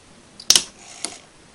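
A model railway point switches over with a sharp mechanical click as it snaps into position, followed by a softer second click about half a second later, close and clear against near silence.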